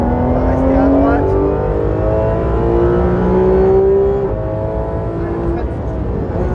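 A Porsche 911 GT3 RS pulls hard on a race circuit, its engine note climbing steadily from inside the car, loud and continuous, with a driver's voice talking over it.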